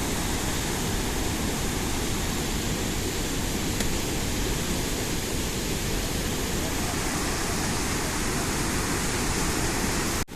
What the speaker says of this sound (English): Look at the mist rising out of the falling water.